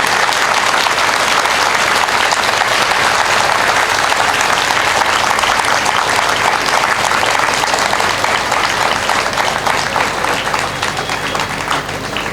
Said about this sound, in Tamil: இந்த 6 பிள்ளைங்களுக்கும் ஒரு நிமிஷம் இடைவிடாத ஒரு கைத்தட்டு கொடுத்து நம்முடைய பாராட்டு தருவேன்